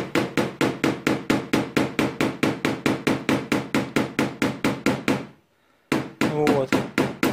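A small paintless dent repair hammer taps steadily on a 2013 Toyota Camry panel, close and sharp, with even strikes about four per second, a brief pause, then the tapping resumes alongside a short burst of other noise.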